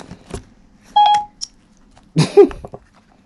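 Short electronic chimes from an iPhone 11 Pro voice assistant sound in a quiet room, a tonal ping near the start followed by a couple of brief blips and a louder rising two-note chime later.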